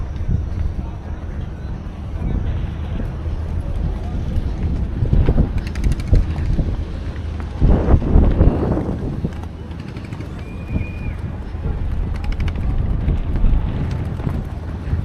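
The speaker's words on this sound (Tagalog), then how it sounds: "Lakas ng hangin." Strong wind in Hoi An, Vietnam, buffets the microphone in loud rushing gusts, with a voice heard briefly beneath the roar.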